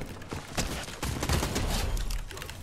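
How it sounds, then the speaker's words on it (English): Repeated gunfire from a player firing on a boss in a battle-royale shooter, a dense, steady run of sharp shots at close-to-mid range, fairly loud and sustained throughout with no talk. "I heard this player shooting at the boss"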